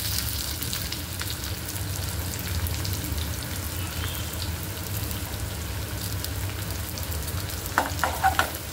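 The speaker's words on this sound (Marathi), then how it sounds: "छान खरपूस भाजायचं." Bitter gourd sizzles steadily in a pan over a high gas flame, a continuous close frying hiss with a few sharper crackles and stirring clinks near the end.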